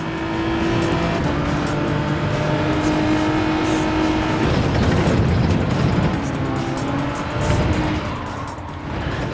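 Race car engines roar continuously in the Gran Turismo 7 racing game, a loud sustained whine with shifting pitch and brief tire squeal around the middle, no talk over it.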